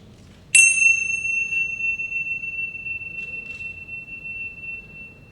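A single bell strikes once at the 2011 National Teachers Hall of Fame induction ceremony, bright and clear, its ringing tone sustaining for several seconds over a low background rumble before slowly fading.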